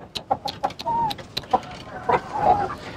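Chickens and a rooster in a coop make repeated sharp clucks and squawks at close range, with a few drawn-out calls mixed in.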